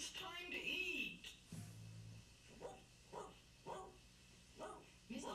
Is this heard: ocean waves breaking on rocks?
no